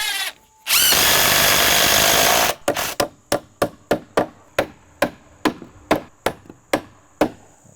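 A power drill whines for about two seconds, then drives 2.5 inch joist hanger screws into wooden stair stringers in a rapid series of a dozen sharp, evenly spaced bursts, loud and close with no talking.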